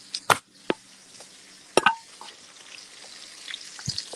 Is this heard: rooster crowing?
no